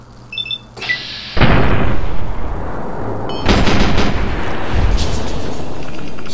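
Gunfire in the Fallout: New Vegas video game, a burst of loud booming shots and heavy blasts that roll into a dense, sustained rumble, with a faint beep at the start.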